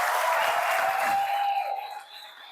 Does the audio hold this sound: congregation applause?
yes